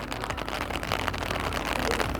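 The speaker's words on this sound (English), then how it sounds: "Rain still relentless at Glen Willow." Steady rain pours down at an outdoor event village for the Dirty Mudgee mountain bike race at Glen Willow, a dense, continuous wash of drops on surfaces without speech.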